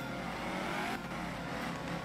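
A rally car's engine roars steadily at full throttle in Art of Rally, a loud continuous drone with a slight shift in pitch partway through.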